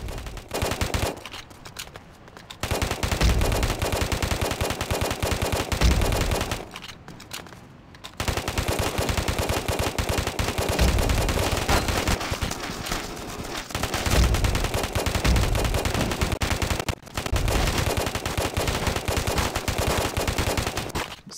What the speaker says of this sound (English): let you soak in the A500 at sub 4000 rate of fire here